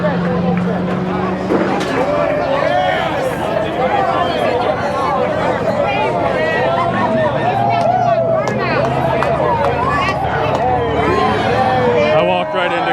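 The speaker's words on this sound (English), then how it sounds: "Crowd's going nuts." A crowd roars and cheers at the Freedom 500 at the Freedom Factory, a Crown Vic racing event, after Cleetus McFarland's victory burnout. The sound is a dense, steady wall of voices and hubbub, close and loud throughout.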